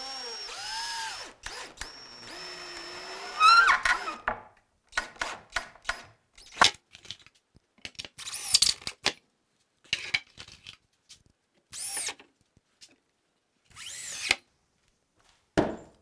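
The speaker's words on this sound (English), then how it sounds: "Got to pre-drill my holes though so I don't split out my plywood." A power drill whines in a few sustained bursts as it pre-drills holes in plywood for a recurve bow form, followed by short clicks and handling knocks separated by quiet gaps.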